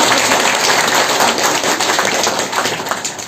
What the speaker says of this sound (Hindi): तालियां बजाओ, पास हो गए।